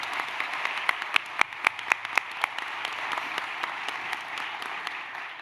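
Steady applause from a crowd, a dense wash of clapping with a few sharper, louder claps standing out near the front.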